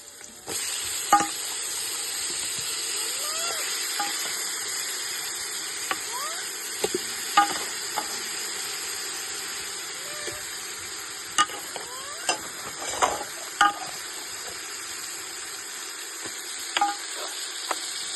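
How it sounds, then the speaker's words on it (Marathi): Mutton pieces go into a hot pot with turmeric and salt for sautéing, giving a steady close sizzle and hiss with scattered clinks and scrapes of stirring throughout, and no voices. "बस परतून घालायला आणि सर्व मटण टाकूया."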